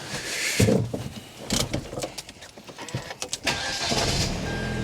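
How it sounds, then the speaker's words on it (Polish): A Hyundai Genesis 2.0 turbo car engine cranks and catches, then settles into a steady idle after some clunks and rustling nearby. "No i teraz silnik pracuje 15 minut."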